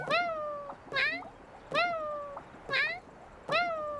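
Stylised cat meows from the Genshin Impact overworld repeat five times in a steady rhythm about once a second, each a bright, close, harmonically rich mew with a bending pitch.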